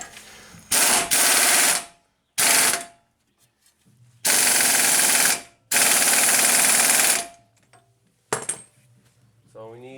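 Heavy pneumatic impact gun hammering on a large 32 mm axle nut during a Nissan Rogue transmission swap, four loud rattling bursts of one to two seconds each with short quiet gaps, close up, no talking.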